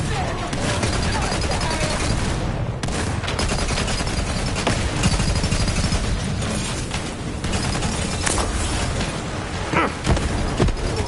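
Sustained rapid gunfire, dense bursts of shots and booms continuing throughout, loud and close, with a few sharper cracks near the end.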